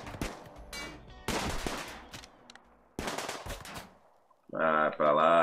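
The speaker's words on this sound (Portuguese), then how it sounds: "Tiro na cabeça." Gunfire in the video game RimWorld: bursts of shots crackle in quick clusters, with a louder sustained burst near the end, all without talk.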